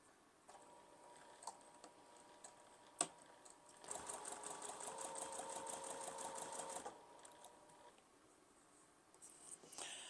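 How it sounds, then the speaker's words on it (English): A sewing machine stitches a white sashing strip onto a throw-quilt block with a scant quarter-inch seam, a quiet, even run of rapid stitching lasting about three seconds, framed by faint handling clicks. "I'm going to stitch those on with a slightly scant 1/4 inch as per usual"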